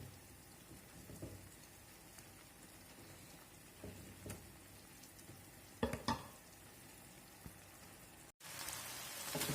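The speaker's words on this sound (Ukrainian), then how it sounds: "І я його помішаю, щоб воно під підсмажилось на золотистий" Beef chunks frying in a pan for goulash, stirred now and then, giving a quiet steady sizzle with a few soft scraping knocks and a sharp louder burst near the end.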